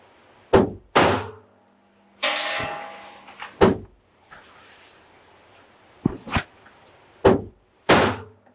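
Pistol shots fired at dot targets during a shooting drill, several sharp loud cracks arriving singly and in pairs with gaps between strings and a faint echo trailing each.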